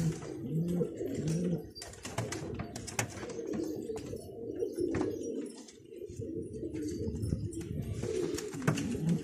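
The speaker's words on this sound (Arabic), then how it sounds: "هاي حمام يا اخوان" Pigeons coo repeatedly at a loft with fledgling chicks, soft throaty rolling calls overlapping close by amid rustling, wing flutters and scattered clicks, with no talk.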